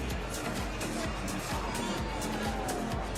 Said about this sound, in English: Crowd getting ready. It's good crowd in tonight.